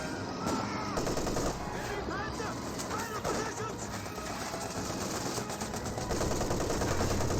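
An MG34 machine gun in Company of Heroes 2 fires bursts of battlefield gunfire that form a dense, continuous clatter with scattered sharper cracks throughout.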